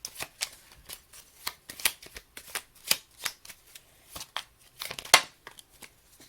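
A tarot oracle card deck being shuffled close up, crisp riffling and slapping bursts in an irregular rhythm over a quiet background.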